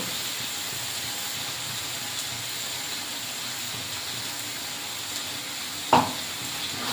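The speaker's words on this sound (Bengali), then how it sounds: "মেখে রাখা টক দইটা দিয়ে মেখে রাখা মাংসটা দিয়ে দেবো" Yogurt-marinated chicken sizzles in a hot pan for village-style curd chicken, a steady, moderate hiss running throughout, with a single clunk near the end.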